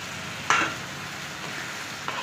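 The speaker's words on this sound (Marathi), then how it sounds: "आता याला आपण हळूहळू हलवायचं," Besan batter with reddened fried onion stirred slowly in a pan over low heat, a brief soft scrape and sizzle near the start and another faint one near the end, quiet and without talk.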